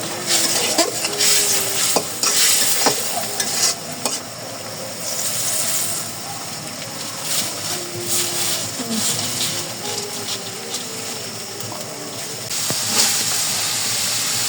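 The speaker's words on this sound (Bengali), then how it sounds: "আর কি মশলাটা কষিয়ে নিলাম" Spice masala is sautéed in a pan for a noodle dish, giving a loud, continuous hiss and sizzle with spatula scrapes and stirring scratches against the pan throughout, and no talk.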